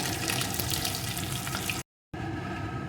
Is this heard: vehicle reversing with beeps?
no